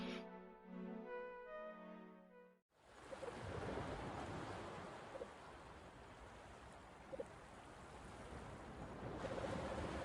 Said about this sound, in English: from the silence, the crashing of waves